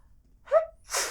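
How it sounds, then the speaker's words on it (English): One person sneezes, a short sharp intake followed by a loud explosive burst, close up and otherwise silent. "I'm gonna sneeze"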